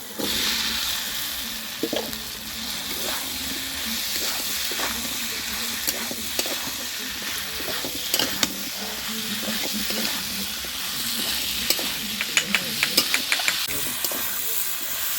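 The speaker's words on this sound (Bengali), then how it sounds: "আলুগুলো খুব ভালো করে কষে নিয়েছি" Fried potatoes stirred into a sizzling spice paste in oil for Bengali aloo posto, with a steady hiss of frying and repeated scraping clicks of a spoon against the pan.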